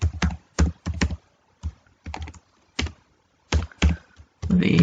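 Computer keyboard typing out C++ code, quick bursts of close key clacks separated by short pauses, with no voice over them.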